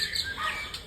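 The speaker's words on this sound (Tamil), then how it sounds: "பறவைகள்." Birds chirping in short bright tweets while drinking from water left out in a village yard, fairly close, with no talk over them.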